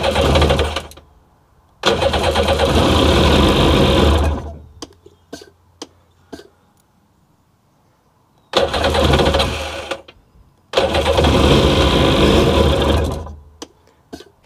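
A Sea-Doo jet ski engine is cranked and fires up in two bursts, each a loud rough mechanical roar lasting a couple of seconds, separated by quiet clicks and ticks, the second attempt running slightly longer before cutting out.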